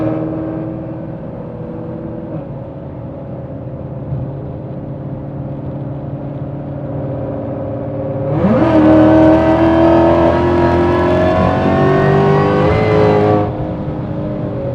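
A Shelby GT500 accelerates hard: a loud, close engine drone that steadily climbs in pitch, then surges into a brighter, louder roar for several seconds before dropping back to a lower steady hum, with no talking.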